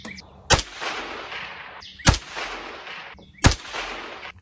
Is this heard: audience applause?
no